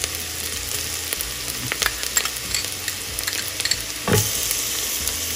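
Ginger garlic paste fries with onions in a pan for mushroom biryani: a loud, continuous sizzle with busy spoon scrapes and stirring clatter close by, no voices.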